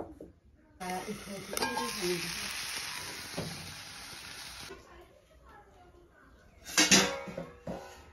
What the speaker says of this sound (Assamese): এইটোত এতিয়া মই ঢেকীয়া ভাজিম